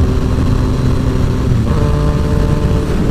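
A Yamaha FZ-09 (MT-09) motorcycle engine droning loudly and steadily while riding, heavy wind rumble mixed with the constant engine note.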